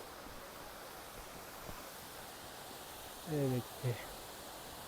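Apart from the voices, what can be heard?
Panchdhara waterfall in Nandamali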